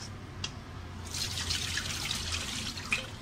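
Water trickling and dripping as washing water from fish scales is strained off, a soft steady pour with a few small drips near the start, fairly quiet and alone.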